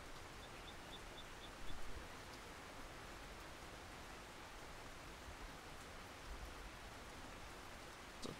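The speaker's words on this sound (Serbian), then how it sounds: "Još ti kiša ovde." Rain falls steadily in the fishing video game Russian Fishing 4, a faint and even hiss of drops with a soft splash now and then. Nobody speaks.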